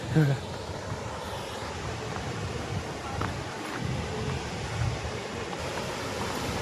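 Steady broadband rushing of water pours over a small dam without a break, with faint wind noise mixed in.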